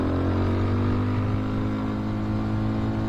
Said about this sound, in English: Now getting the bike up to some speed here.